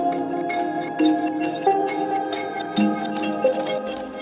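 Bright bell tones ring in a repeating pattern over sustained chords and soft percussion, all part of a music mix.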